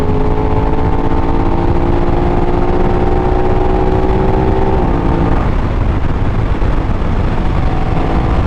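A 2024 Aprilia RS660 Extrema 600 cc motorcycle engine pulling uphill in fifth gear, a loud, steady drone that rises in pitch and then drops around the midpoint as the load changes, continuing strongly with no talk.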